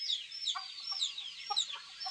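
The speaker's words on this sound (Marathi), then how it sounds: "हे बघा इथं कोंबडे आहेत." Roosters and hens cluck and chirp in a mesh-walled poultry shed, several birds calling in short overlapping bursts at moderate distance, with no talk.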